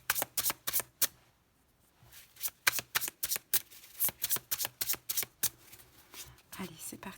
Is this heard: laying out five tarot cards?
yes